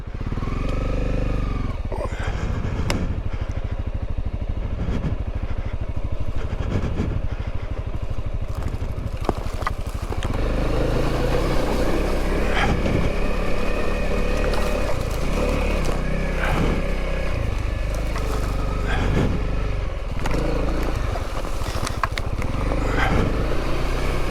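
A Honda CRF250L motorcycle rides downhill, its engine a continuous close rumble with shifting revs and occasional clatter from the trail throughout, without speech.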